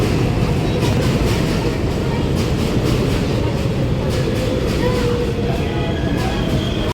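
A constant low rumble and rattle of a New York subway car riding toward Times Square, steady and enveloping throughout, with faint clicks and no pauses.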